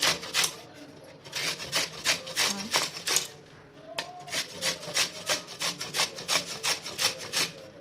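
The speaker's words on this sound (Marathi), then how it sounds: "कैऱ्या आता या किसून घेऊया" Peeled raw green mangoes rubbed against a grater, a steady run of rhythmic rasping strokes, close and fairly loud, with no talking.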